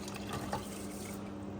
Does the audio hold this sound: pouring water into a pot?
yes